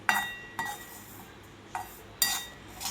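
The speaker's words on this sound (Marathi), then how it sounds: "मीडियम गॅसवरती आपल्याला रवा भाजून घ्यायचा आहे।" Semolina (rava) roasting on a pan over medium heat, stirred with a metal spoon that gives four or five sharp scraping clinks against the pan over a quiet background hiss.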